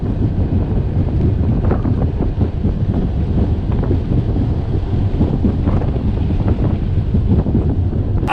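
Strong wind buffets the microphone on a lake, a loud continuous rumbling roar with gusty swells and faint watery slaps from a boat, no voices heard.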